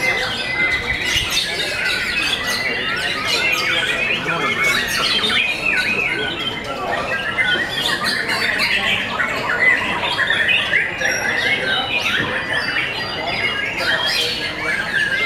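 White-rumped shamas (murai batu) call at a songbird contest with dense, overlapping squawks, chirps and whistles that carry on loudly and continuously, with faint voices in the background.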